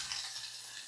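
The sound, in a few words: sizzling as khichdi is tempered in hot oil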